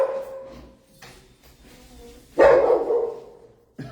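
A dog barks and whines nearby, a few short yips building to one loud bark, then another bark starting at the end.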